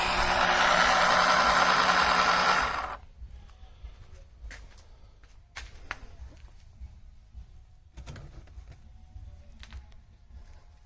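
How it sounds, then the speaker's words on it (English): Electric oil extractor motor sucking oil out of a Mercedes engine, a loud steady broadband whir for about three seconds that abruptly drops away, leaving faint clicks and low hum. "you can hear the sound of the motor changing"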